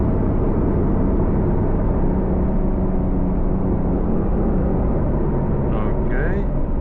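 Car engine accelerating in Sport Plus mode, a loud, steady low rumble that holds evenly throughout, with a brief rising tone near the end.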